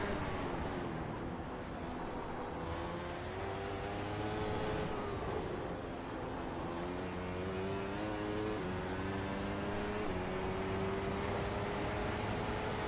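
A racing car engine drones and revs through gear changes on the Nordschleife circuit in a video game, its pitch climbing and dropping repeatedly in a continuous close whine with no talk.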